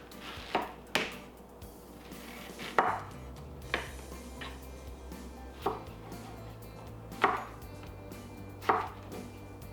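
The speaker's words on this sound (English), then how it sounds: "I'm just going to continue slicing up my zucchini here" Knife chopping zucchini into fry-shaped sticks on a cutting board: a series of sharp, close thuds at irregular intervals, each one quick and distinct, with a quiet background between cuts.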